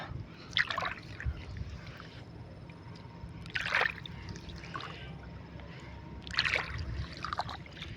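Water trickling along channels drawn into the ground to spell letters, a faint, steady trickle broken by three soft splashing bursts spaced a few seconds apart.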